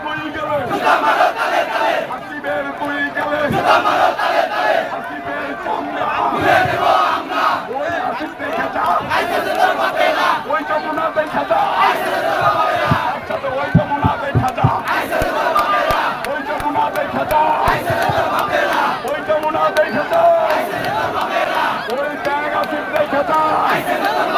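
Protest crowd in front of Jamuna, a dense mass of voices loudly chanting slogans in rhythmic unison for a long stretch, with shouting and chatter mixed through a constant roar.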